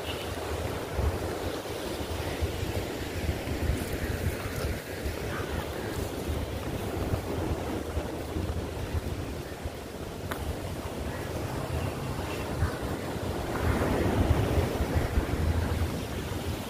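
Ocean surf rolls onto the shore at Shekhadi village in Shrivardhan, a continuous roar of breaking waves mixed with heavy wind buffeting the microphone, swelling louder near the end.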